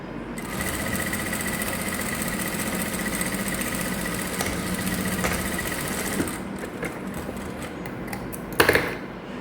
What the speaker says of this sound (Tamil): இந்த இடத்துல நம்ம வந்து தையல் போட போகிறோம். ஓர தையலாக போட போகிறோம்.